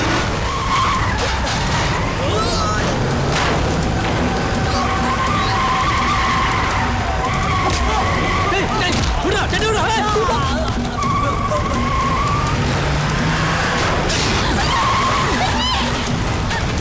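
Car tires skid and squeal in a Tamil action movie scene from Malai Malai, a loud screeching vehicle sound layered over dramatic background music and effects, with brief voices.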